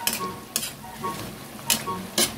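Cabbage with tuna flakes and oyster sauce being stirred in a pan, giving a few short scraping strokes over a steady low sizzle, close and moderately loud, with no talking.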